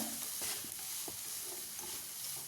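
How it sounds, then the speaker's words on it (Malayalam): Onion and cabbage being stirred in a pan with ginger-garlic paste, masala powder and turmeric, giving a steady low sizzle with soft scraping strokes of a spoon, close and continuous with no talking. "എന്നിട്ട് നന്നായിട്ട് തന്നെ ഒന്ന് മിക്സ് ആക്കിയിട്ടെടുക്കുക"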